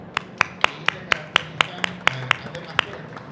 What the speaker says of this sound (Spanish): la maestra Isabel Montoya Ramos, para quien pido un aplauso, por favor.